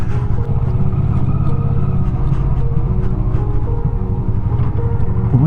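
A motorcycle rides up through an autumn park toward a palace, its engine a steady, loud, close drone throughout with slight shifts in pitch.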